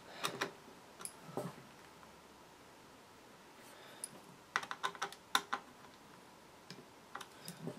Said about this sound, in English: I'm just going to go ahead and loosen the spring just a tiny bit